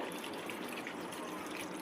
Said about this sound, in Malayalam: ഇച്ചിരി ചൂടുവെള്ളവും കൂടി ഒഴിച്ച്